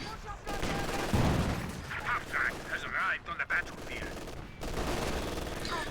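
Video game gunfire from a .50 cal and a rifle grenade: dense, continuous shooting and blasts fill the sound, with brief louder bursts over the din.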